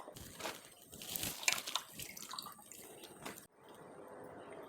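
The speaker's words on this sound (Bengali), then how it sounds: "এভাবে একবার পরিষ্কার জলে ধুয়ে নেবে।" Chopped taro leaves are washed in clean water, with close sloshing, dripping and splashing by hand that settles into a quieter trickle toward the end.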